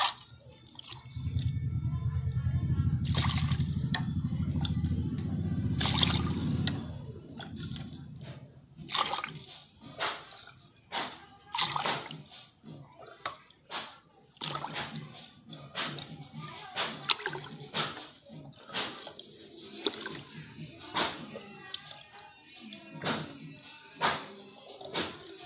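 Water pours steadily for several seconds into a homemade themor karaisal garden solution to dilute it to ten parts water, a full, close splashing rush that then stops, leaving scattered clinks and handling noises.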